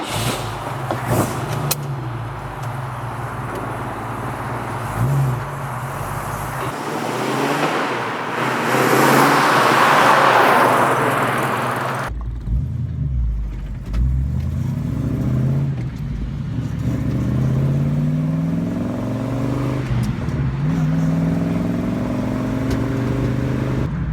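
A custom-built Falcon car drives along a road, its engine a steady, fairly loud rumble that swells midway, then settles to a lower drone with some wind and road noise.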